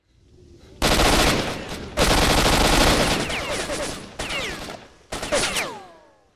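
Loud bursts of automatic gunfire in the video game S.T.A.L.K.E.R. Shadow of Chernobyl, coming in several long, dense volleys with brief gaps between them.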